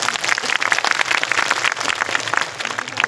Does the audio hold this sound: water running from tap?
no